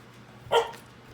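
A puppy gives a single short, sharp bark indoors, close by and fairly loud, against a quiet room background.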